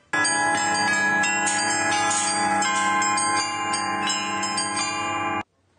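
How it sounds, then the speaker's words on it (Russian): Church bells peal in a monastery courtyard after a service, several bells of different pitches ringing together in a loud, dense, sustained chime that stops abruptly near the end. "После службы в монастырском дворе можно было услышать колокольный перезвон."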